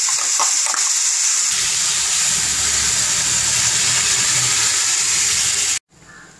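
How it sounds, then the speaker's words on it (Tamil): A pot of curry with chickpeas, turmeric and ground paste boils on a stove with a steady, loud bubbling and rushing hiss that runs continuously, then cuts off abruptly near the end. "இப்போ அரைச்ச விழுது இதையும் போட்டு நல்லா கொதிக்க விடணும்"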